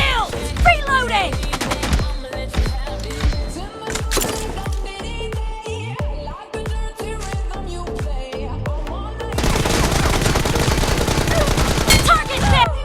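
Rapid gunfire and explosive bursts from a shooter video game played in Unity, dense and loud throughout, with bursts of automatic fire and a heavier sustained barrage toward the end, mixed with game effects and speech.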